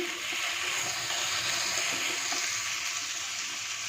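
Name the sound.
stirring frying vegetables for masala semiya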